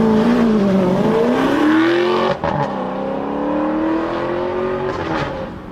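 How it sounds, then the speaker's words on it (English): A Maserati Quattroporte engine, near identical to the Alfa Romeo 8C unit, revs loudly and close, its pitch climbing, dropping sharply, then rising again into a sustained high whine before easing off. "it's near enough the exact same engine found in the Alfa Romeo 8C"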